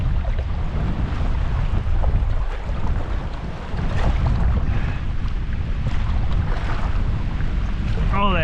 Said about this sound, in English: Oh, that wind is not nice.